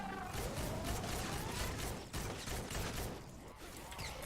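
Rapid bursts of Tiger military assault rifle fire in the Fortnite Save the World shooter, fired at medium range, a dense continuous volley with metallic mechanism clatter and a brief pause midway, loud and close.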